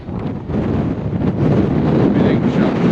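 Wind blows hard across an exposed hilltop, a loud, gusty low roar buffeting the microphone and building steadily stronger with no talking.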